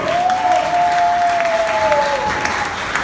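Audience applause at an evening forum, steady crowd clapping throughout with a sustained tone passing over it, with some voices mixed in.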